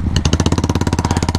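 Superbike engine lifting into a wheelie on a Sunday road ride, close and loud rapid pulsing exhaust beats firing in an even, fast rhythm.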